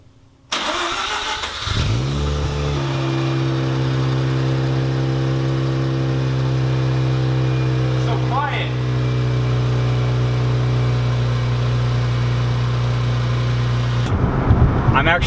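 A Mazda RX-8 rotary with a Racing Beat stainless exhaust cranks and fires up, settles into a steady close idle, then blips the throttle once midway before returning to idle and being shut off.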